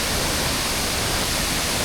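Steady broadband rush of a two-tier waterfall at a locals-only spot in Sri Lanka, a continuous even roar filling the whole clip with no breaks or voices.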